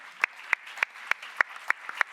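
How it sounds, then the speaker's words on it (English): Sparse, evenly spaced claps, about eight sharp individual hand claps at a steady rhythm, close and distinct over a quiet room at a start-up day talk. "I think that's worthy of a round of applause"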